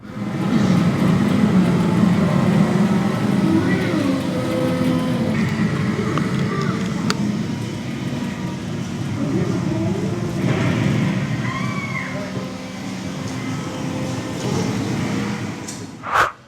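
A virtual racing car's engine drones steadily in a VR driving game, a loud continuous hum that holds for the whole stretch, with a voice partly audible underneath.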